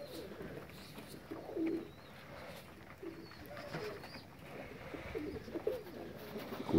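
A pigeon coos softly outdoors, its low calls faint and intermittent against a steady background hum.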